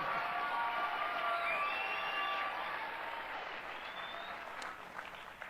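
A graduation ceremony audience applauds and cheers in a broad, continuous crowd roar. Dense clapping and scattered whoops hold steady before tapering slightly near the end, with no speech over it.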